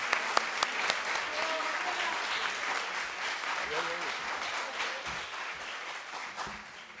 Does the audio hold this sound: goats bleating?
no